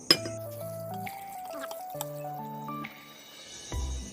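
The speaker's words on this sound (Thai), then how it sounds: "ครับอันดับแรกเราก็ใส่ น้ำเย็นไปก่อนนะครับ" Cold water poured into a cup, a close trickle whose pitch rises step by step as the cup fills, ending with a soft clunk.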